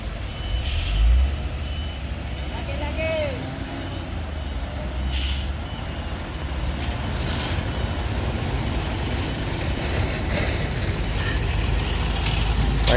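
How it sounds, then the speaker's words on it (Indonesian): A Mitsubishi Fuso tanker truck reverses after failing to climb a steep hill, its reversing beeper sounding over a steady engine rumble, with air-brake hisses and faint voices in the background. "Dia ada truk lighter ya, tangki juga yang ngalamin gagal nanjak."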